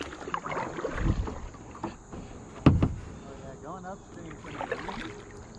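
Intermittent splashes and knocks of a kayak paddle dipping into a calm river, a few close strokes spaced a second or so apart over wind and faint insect buzz, with brief speech between them.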